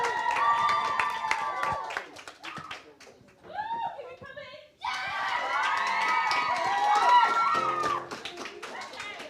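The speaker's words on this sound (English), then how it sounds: "So a big round of applause for Priscilla." An event audience at Teesside University in Middlesbrough clapping, cheering and shouting, a loud lively burst that dips briefly before surging again, with voices calling out among the crowd.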